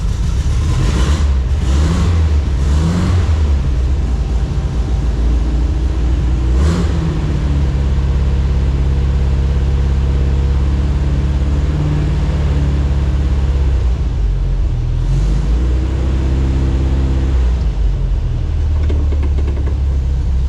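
A 1973 VW Thing's engine rumbles steadily as the car drives, with several loud revving surges climbing and falling over a continuous low drone, close and alone without talk.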